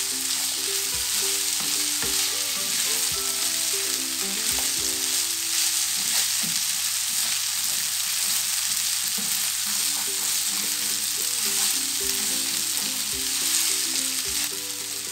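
Rice sautéing in a pan with vegetables and spices, giving a steady, dense sizzle at close range that runs unbroken for the whole stretch, with faint stirring scrapes now and then.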